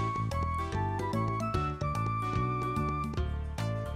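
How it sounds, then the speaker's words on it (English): Upbeat electronic music from the Nintendo 64 game Mystical Ninja, with bright repeating melodic notes over a steady bassline, playing alone at a moderate level. "the music in this game is fan-freaking-tastic"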